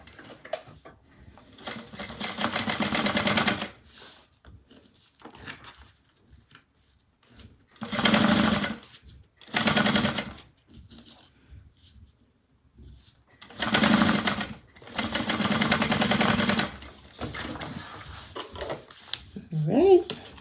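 Sewing machine top-stitching a folded seam allowance on a clutch bag lining, in several loud rapid bursts separated by pauses, with faint clicks between runs.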